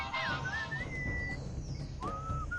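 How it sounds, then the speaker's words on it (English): Melodic whistling from the Sam and Max video game, a clear wavering tune that pauses and resumes over a steady backing beat with low rhythmic music underneath. "enchanting whistling sound?"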